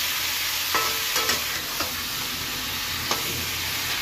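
Small potatoes are turned over in a hot frying pan, the oil hissing steadily while a spoon clicks and scrapes against the pan a few times, close and alone.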